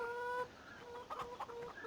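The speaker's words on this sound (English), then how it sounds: "So you've got your chickens in here." Several chickens cluck softly in short, uneven bursts in Farming Simulator 2017, with a steady tonal hum behind them.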